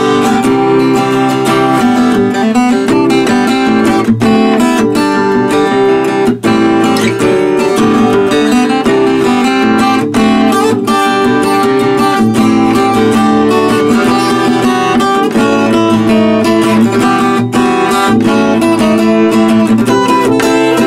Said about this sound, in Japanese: とりあえずピックでジャカジャカと弾いてみます